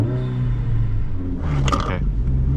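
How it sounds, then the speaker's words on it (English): A Honda Civic Si's turbocharged engine revs up hard while being driven, a loud surging rise in the middle of a steady low cabin rumble, with faint hiss near the peak. "Let's hear that turbo."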